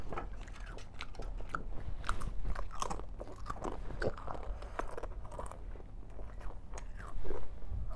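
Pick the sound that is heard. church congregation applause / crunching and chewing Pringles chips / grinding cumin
crunching and chewing Pringles chips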